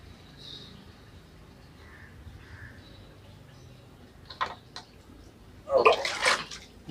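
A mug scoops water out of a fish tank in a couple of short sloshing splashes near the end, after quieter faint background sounds and brief drips.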